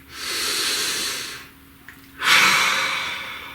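A deep breath drawn before a tarot reading, heard close and clear: a long airy inhale, a short quiet gap, then a strong hissing exhale, with no voice over it.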